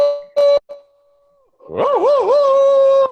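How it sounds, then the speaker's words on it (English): A dog howls loudly for over a second with a wavering, sliding pitch, right after a brief ringing tone and a sustained note during a home music session. "Rocky's howling already."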